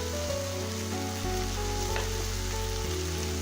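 Tomatoes for a butter chicken sauce sizzle and bubble in a pan, a steady close frying hiss with a low simmering hum beneath it and no voices.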